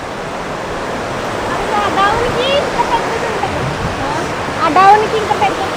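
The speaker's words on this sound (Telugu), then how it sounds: "వాటర్ ఫాల్స్ చూడండి" A steady roar of rushing, falling water at Putikunta waterfalls fills the scene, with people talking over it now and then.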